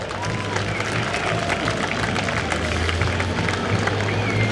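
A crowd at an outdoor semi-truck pulling event in Easton applauds in a continuous wash of clapping and crowd noise, steady throughout with a low rumble underneath.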